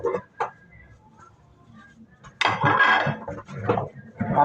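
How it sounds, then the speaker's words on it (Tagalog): Dishes and plates being washed by hand at home, with clinks and scrapes of plates and cutlery that grow louder and busier midway, against a low background. "Ako naman na maghuhugas ngayon ng ating plato."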